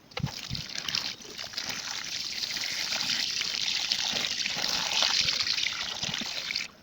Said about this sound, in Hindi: अभी जो है इसमें मैं अच्छे से पानी डाल दूँगा